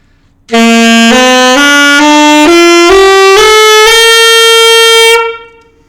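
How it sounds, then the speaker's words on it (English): A saxophone plays a harsh, honking rising scale of about eight blaring notes, loud and close, then fades out. "Do your saxophone players sound like this?"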